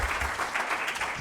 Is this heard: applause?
yes